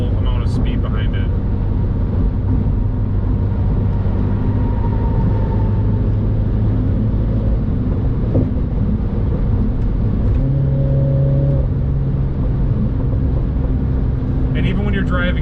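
A Mini Cooper S John Cooper Works engine drones loudly and continuously from inside the car, with pitch shifts as it pulls and eases off, while a voice talks over much of it.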